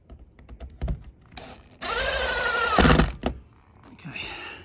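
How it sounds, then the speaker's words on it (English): A cordless drill on a light clutch setting bores into plastic during a MaxxAir Fan Deluxe install in a Mercedes Sprinter van: a roughly one-second whirring burst, framed by nearby knocks and clicks. "I've got the clutch set really light on this at the moment, so it's not going to drill too hard."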